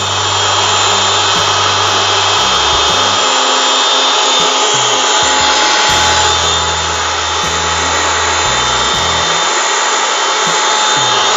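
A high-pressure steam pump for cleaning air conditioners runs loud and close, giving a continuous harsh motor whine and hiss with uneven low pulsing throbs throughout.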